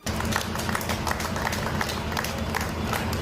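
Bystanders clapping to cheer on pilgrims departing by bus for Telangana and Andhra Pradesh, a busy outdoor patter of many hands over a low engine-like rumble and crowd murmur, steady throughout.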